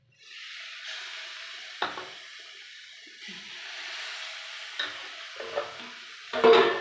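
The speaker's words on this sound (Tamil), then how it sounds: "கொஞ்சம் நல்லா அந்த மசாலாவுடைய தூள் எல்லாம் பச்சை வாசனை போகிற அளவுக்கு கொஞ்சம் வறுத்துக்கோங்க" Masala powder dry-roasting in a pan for chicken curry, a soft continuous sizzle broken by a few scraping stir strokes, with a louder stir near the end.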